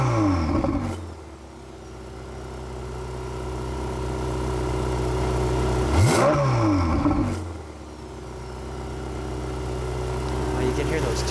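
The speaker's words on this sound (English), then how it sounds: "put it in the different modes so I can just hear the exhaust change." A yellow 2017 Ferrari 488 Spider with a turbocharged engine idles loudly up close, then revs sharply twice and falls back to a steady rumble while the exhaust modes are switched.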